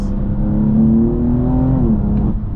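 A BMW M4 CS accelerates hard from third gear, its engine a loud, close, continuous roar that climbs steadily in pitch for about two seconds before easing off.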